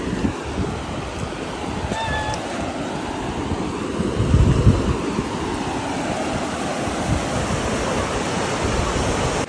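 Sea water washing back over the sand on the beach at Digha, a broad steady rush of surf with wind noise on the microphone, swelling slightly midway and continuing throughout.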